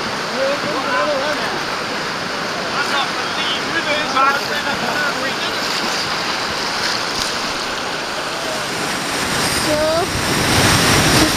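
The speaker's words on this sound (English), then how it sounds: "this is the first rapid. And shooting the rapids." Whitewater rapids on the River Tay rush loudly and continuously around a kayak, a dense roaring wash of churning water with a brief spoken word near the start.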